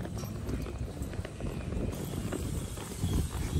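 Horses walking at an equestrian campground in the mines of St-Urbain, Charlevoix, with hooves clip-clopping softly amid outdoor rumble and handling noise, a loose uneven rhythm at close range.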